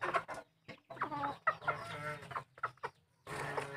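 F1 chickens cluck in short, uneven bursts close by, with a few sharper calls and quiet gaps between them, and no talking.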